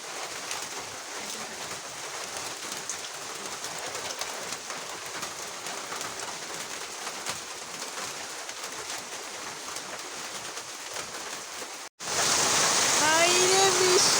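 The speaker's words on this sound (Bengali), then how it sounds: "কি পরিমাণ যে বৃষ্টি নামছে" Heavy rain pouring down outdoors, a dense continuous hiss that holds steady, then cuts briefly and returns louder and brighter near the end.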